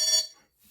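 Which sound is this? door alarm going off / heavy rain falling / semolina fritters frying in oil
door alarm going off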